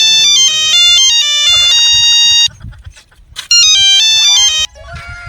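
A loud electronic melodic ringtone plays in two bursts, separated by a short gap with faint low background noise.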